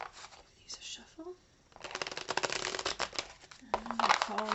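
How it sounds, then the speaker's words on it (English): Playing cards riffle and shuffle in a quick crackling rush, close up, with a voice speaking briefly before and after. "Give these a shuffle."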